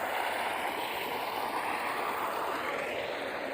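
Irrigation water flows to date palm trees in a palm garden, a steady broadband rush of running water that stays even and continuous throughout, with no voices.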